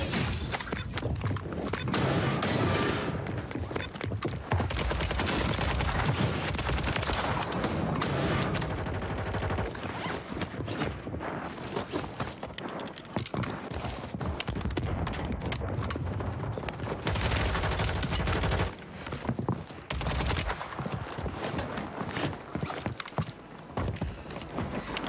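Rapid, loud bursts of automatic gunfire in Call of Duty: Warzone on Rebirth Island, a near-continuous fusillade with sharp cracks and clattering mechanisms.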